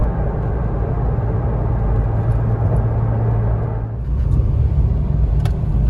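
A car rolls along with a steady, close engine rumble and road noise throughout, which dips briefly and then rises again as the car slows on arrival at a car-cover workshop.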